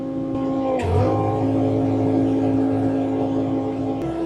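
Diesel engine of a Bobcat T66 track loader fitted with a snowblower, rising in pitch as the throttle comes up, then holding a steady close drone while the machine inches forward in winter conditions.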